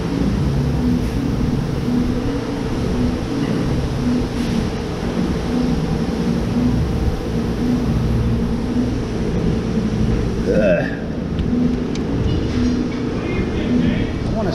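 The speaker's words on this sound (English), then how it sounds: "keep turning the engine over." A 2001 Ford Expedition engine being cranked over, giving a steady, even, repeating churn with a regular rhythm that holds for most of the stretch, then a brief voice cuts in near the end.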